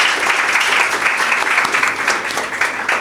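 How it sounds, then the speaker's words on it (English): A room full of attendees at a library association's annual general meeting giving dense, sustained applause, loud and close, with no talking over it. "Let's give her another round of applause,"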